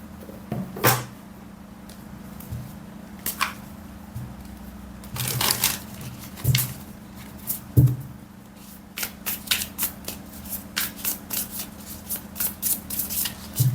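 Tarot cards being shuffled by hand, heard as repeated riffling bursts and sharp flicks with brief pauses between them, close and fairly loud, with no talking.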